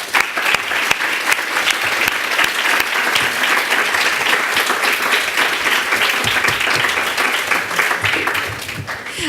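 Audience at a graduation ceremony breaking into sustained applause, loud, dense clapping from a large crowd that holds steady for several seconds before easing slightly at the end.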